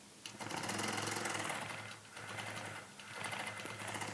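A sewing machine stitches a quilt block at 18 stitches per inch, a fast steady whirring hum with brief slowdowns between runs and no talking.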